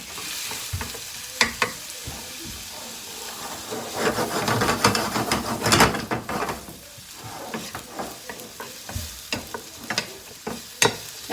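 Food sizzles and crackles steadily in a hot pan, with sharp clinks and scrapes from a utensil stirring it throughout.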